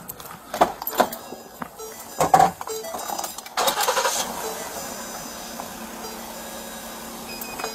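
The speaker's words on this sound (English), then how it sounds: "I'm gonna get this car on and get the window down." A police car's engine is started: a few clicks and knocks give way to a cranking catch and a rising engine sound that settles into a steady idle.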